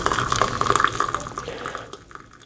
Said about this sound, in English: So I'm just gonna strain it as I pour it